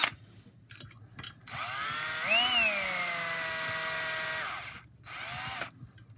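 A power drill drives a long screw into a locksmith lock-pick training station, its motor whining steadily for about three seconds with a rising pitch, then a short second burst after a pause; nearby, fairly loud, no talk.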